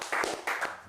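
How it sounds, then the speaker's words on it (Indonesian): A couple of brief, quiet bursts of clapping sound in a podcast studio, two short rounds of hands clapping less than a second apart. "Tepuk tangan dulu dong!"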